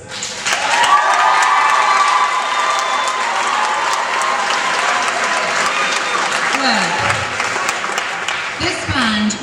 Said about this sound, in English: If the band could stand up there and we'll give you a round of applause, please.